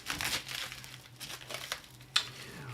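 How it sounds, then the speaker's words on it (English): Packaging around a GPU being unwrapped, with several bursts of crinkling plastic and rustling, then one sharper crackle near the end, all close to the microphone over a faint low hum. "Tell me if it sounds a little bit too much on the stream when I am unwrapping this thing."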